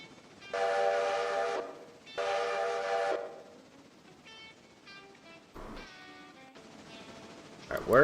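A passenger train pulls into Bryson in a railroad video game, sounding two long whistle blasts followed by shorter horn tones over a quiet rail background.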